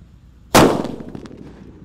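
A paper-wrapped firecracker goes off in one sharp, loud bang, and the report fades into a short, rattling echo.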